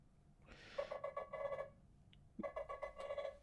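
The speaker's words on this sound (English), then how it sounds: "So if we go to our default ringtone," A Nothing Phone 2 default ringtone plays two short bursts of bright, buzzy ringing tones separated by a brief pause, clear and close.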